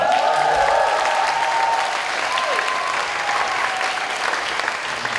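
Sustained audience applause at a church retreat sermon, a dense, steady wash of many clapping hands filling the whole stretch at fairly loud level, with no talk over it.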